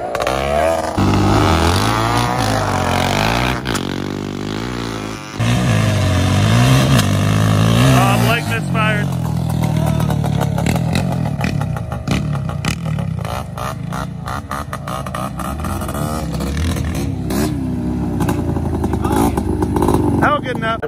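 Two off-road quad ATVs, a Honda TRX700XX and an Odyssey FL350 buggy with a gravity-fed tank, ride along at an easy pace, their engines droning and revving close by throughout, with talk over the top.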